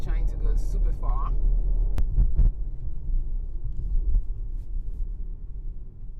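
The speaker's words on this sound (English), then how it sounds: "I don't know if you guys hear, but this car sound amazing." Mercedes AMG GT 63 sedan engine idling at a red light, a deep steady low rumble heard from inside the cabin, with a few clicks and thumps early on.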